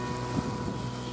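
A Clarence River ferry crosses the river mouth toward Iluka, its engine giving a steady low drone under wind rush, with faint water noise and no voices.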